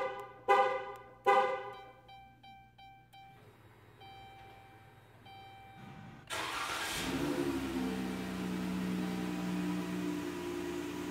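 Two sharp chirps and fading tones from a Directed Electronics 4X10 digital remote starter on the factory key fob, a short quiet pause, then a car engine cranks, catches and settles into a steady idle nearby.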